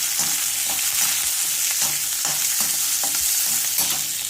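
Carrots frying and being stirred in a pan while cooking methi pulao, a steady close sizzle with soft periodic scrapes of the spoon, no voices.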